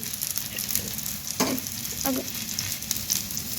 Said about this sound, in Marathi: असं होलामध्ये तेल सोडूया म्हणजे हे चिपकणार नाही खाली